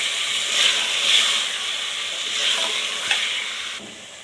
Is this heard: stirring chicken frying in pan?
yes